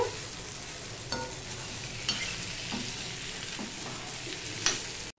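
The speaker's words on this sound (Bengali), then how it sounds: "এবার মিডিয়ামে দিয়ে আমি পটলটা ভালো করে ভেজে নেব।" Pointed gourd (parwal) pieces frying in a hot wok over medium heat, giving a steady close sizzle with a few scraping stirs every second or so and no talk.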